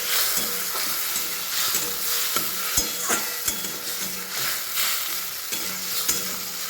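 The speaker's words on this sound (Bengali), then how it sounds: "এখানে আমি প্রথমে আলুটা ভেজে নিচ্ছি" Potatoes and tomatoes frying in a pan for Bengali aloo dum, with steady sizzling and hissing broken by repeated scraping stirs of a spatula, close and continuous with no talk.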